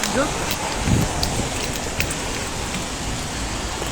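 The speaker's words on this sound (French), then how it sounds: "C'est quoi cette pluie là?" Steady rain pattering and hissing outdoors beside a car, a dense even wash with occasional louder drops, heard up close for the whole stretch.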